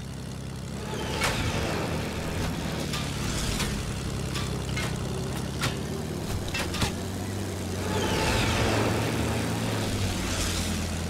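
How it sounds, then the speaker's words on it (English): Aircraft engine drone from a plane flying overhead in the Fortnite video game, a steady propeller-like hum with a louder swell near the end, broken by sharp in-game clicks and impacts. "There's another plane."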